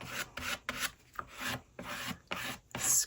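A scraper rubs collage paper down onto a winter journal cover in repeated rasping strokes, about six firm passes in quick rhythm, close and alone.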